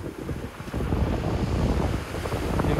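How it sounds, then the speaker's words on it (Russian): Waves wash continuously onto the Black Sea shore at Sochi in April under cloudy skies, a steady broadband surf roar mixed with heavy wind buffeting on the microphone, with no voices. "Море слегка волнуется."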